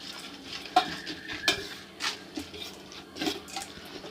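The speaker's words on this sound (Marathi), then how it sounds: "हळूवार हलवायचे तुम्हाला हे" Spoon stirring a farsan bhel mixture with chutneys in a bowl, soft scraping and clinking strokes coming in uneven bursts, close and fairly quiet.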